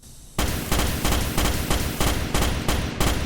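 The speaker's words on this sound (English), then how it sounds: "The rifle overheats after prolonged use, so fire in short, controlled bursts." Merida Mark IV rifle in the Starship Troopers video game fires loud, close bursts of automatic gunfire, about eight sharp volleys in an even, rapid rhythm with nothing else heard.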